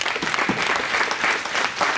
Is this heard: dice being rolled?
no